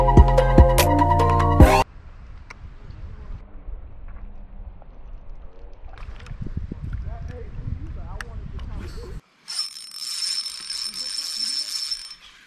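Fishing reel drag being adjusted on a kayak while drop-shot fishing for smallmouth bass on light line, giving soft ratchet clicks amid water and paddling noise, after a brief loud burst at the start.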